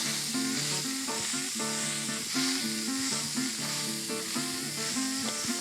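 Food sizzles and fries steadily in an old pan, a loud continuous hiss with crackling and faint scraping of stirring, close up and without any talking.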